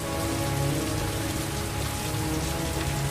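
Steady rain falls in the video game Heavy Rain, a dense, continuous hiss of drops on surfaces with no voices over it.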